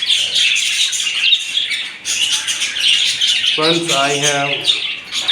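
Pet budgies chirp rapidly and continuously in a cage at close range, a dense, bright twittering that runs throughout, joined near the end by someone speaking.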